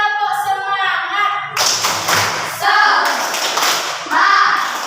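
A classroom of schoolchildren doing a rhythmic clapping chant, sharp patterned hand claps in bursts mixed with children's chanting voices and a teacher speaking, close and fairly loud.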